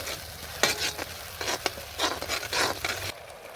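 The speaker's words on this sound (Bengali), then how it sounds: "মশলাটা এখন খুব ভালোভাবে কষাবো" Spice masala of turmeric, cumin and coriander powder is stir-fried with a splash of water in a pan for a soybean curry. Several short, loud bursts of sizzling scrape come from a spoon working through it over a low, steady hiss.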